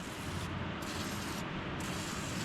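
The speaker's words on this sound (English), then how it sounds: "Just kind of spray everything we can down." Blaster penetrating oil sprayed onto the bolts of an old John Deere 750 bulldozer, a steady close hiss with two brief dips in the middle, heard alone.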